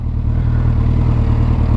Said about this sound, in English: It seems to be idling pretty good.